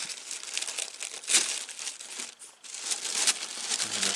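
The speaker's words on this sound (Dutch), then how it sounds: "het lukt me dus dit keer ook niet om het papiertje heel te houden" Paper wrapping on a subscription craft box crinkles and tears open during an unboxing, a close, continuous rustling with sharper ripping bursts and no speech.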